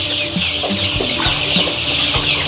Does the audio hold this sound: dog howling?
no